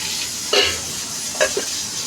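Low, steady sizzle of spices in hot ghee, heard close, with a few brief metallic clinks of a utensil against the pan.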